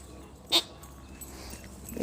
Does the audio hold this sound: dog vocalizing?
yes